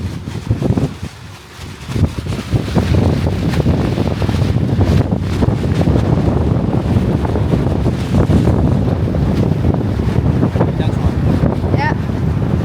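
Strong sea wind gusts buffet the microphone in a loud, roaring rush, with waves and water sloshing underneath and brief voices in the background, on a fishing outing in Key West.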